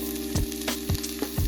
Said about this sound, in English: You should hear a sizzling sound as soon as the steak hits the pan.